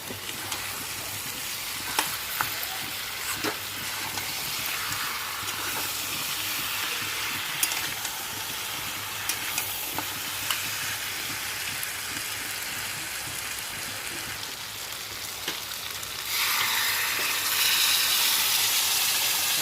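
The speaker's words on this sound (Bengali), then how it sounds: "দিয়ে এটা ভালো করে ভেজে নেবো আরেকবার" A fish head fries with spices in a pan, giving a steady, close sizzle with scattered sharp pops and scraping stirs, and the frying grows louder and brighter toward the end.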